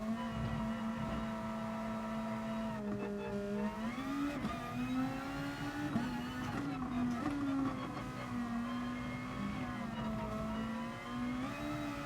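A race car engine in the Gran Turismo Sport video game drones steadily and loudly throughout, its pitch rising and dipping with throttle and gear changes during an online race.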